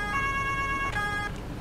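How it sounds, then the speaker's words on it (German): Police siren in the Farming Simulator 19 video game, a steady electronic wail held loud and close for about a second before cutting off, with no talk over it. "Sirene aus. Weil auf Dauer nervt die ein bisschen."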